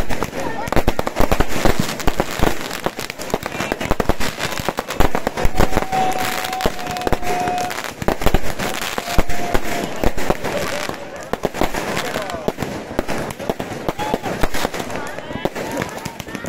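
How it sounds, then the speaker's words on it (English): New Year's Eve fireworks on Stingray Island in Indonesia: dense, continuous crackling and popping bursts over a steady crowd roar, with people talking throughout. "And here are the people watching the firework display."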